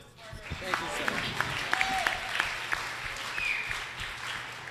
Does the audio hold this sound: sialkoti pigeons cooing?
no